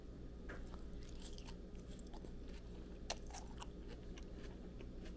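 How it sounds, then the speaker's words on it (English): Quiet, close crunching and chewing of pickled lotus root, with a few crisp bites breaking through a low background hum. "Now for the pickled lotus root."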